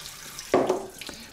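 Water pours in a short rushing splash as blanched beans are drained in a colander at a kitchen sink, then a few scattered drips follow, all fairly close and soft.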